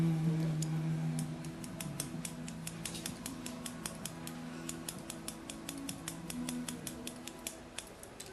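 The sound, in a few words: scissors texturizing hair during short haircut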